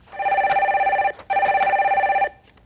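An incoming call sets off a telephone's electronic ring in a Korean broadcast studio, two long trilling bursts with a short gap between them, loud and close, with no voices.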